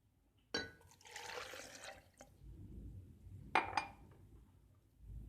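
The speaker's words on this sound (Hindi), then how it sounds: "दूध डालेंगे अब।" Milk is poured into a jug holding four bananas for a banana and date milkshake, a sudden liquid gush followed by a soft burbling fill and a couple of glassy clinks near the end.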